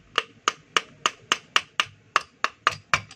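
Light, evenly spaced hammer taps land on a part of a DeWalt D25811 jack hammer, about a dozen sharp close-up knocks in a steady rhythm.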